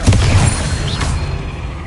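A Bombarda explosion spell in Hogwarts Legacy goes off as a single deep, loud boom at the start, with its low rumble trailing away over the next second and a half.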